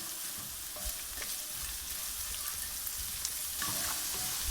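Ingredients for a tenderloin rendang curry sauté in a hot pan with a steady, close sizzle and occasional stirring scrapes, with no talking.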